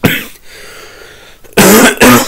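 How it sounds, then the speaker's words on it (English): A person who is sick coughs, one sharp cough followed by a pause and then two more loud, harsh coughs close to the microphone. "So you're gonna hear me coughing."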